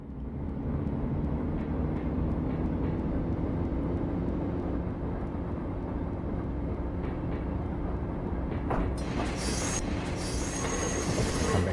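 A train rolls steadily along the main line in the Train Simulator video game, its loud continuous rumble running the whole time, with brighter wheel squeal and clatter rising near the end.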